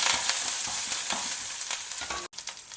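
Fresh curry leaves and grated ginger sizzle in hot oil for a lemon rice tempering. The frying hiss is loud, dense and steady, with a brief cutout near the end.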